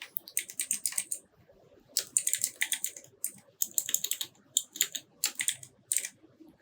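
Keys clatter on a computer keyboard while text is typed into motion-graphics software, in quick close bursts of clicks separated by short pauses, with no voices.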